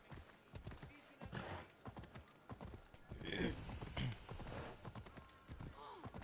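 Rhythmic hoof clip-clop of a galloping horse with occasional whinnies in the video game Assassin's Creed Odyssey, mixed with people talking and game sounds.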